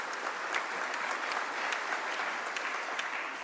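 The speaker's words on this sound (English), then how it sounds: "Keep clapping until she gets here, just to encourage her." Audience at a heritage authenticity conference claps continuously in warm, sustained applause that fills the room at a steady level, with no talking over it.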